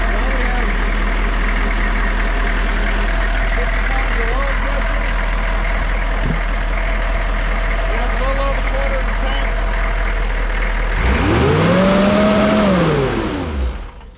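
A Humvee engine with a stuck throttle, revving hard and steady near the mic, ending in a sweeping surge up and back down.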